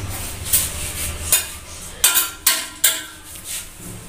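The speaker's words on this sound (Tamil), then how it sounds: "இந்த கல்லை வெட்டி போட்டுருவோம்." A brick being cut in half with sharp knocks to fill a gap in a wall, about five distinct hard strikes spaced through the span, near and fairly loud over faint background noise.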